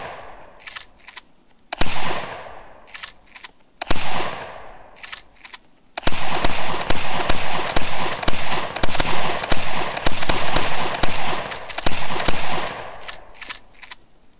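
Loud gunfire at a military-themed training test: a few heavy single shots, then sustained rapid automatic bursts that rattle on continuously, close and dominant with no talk.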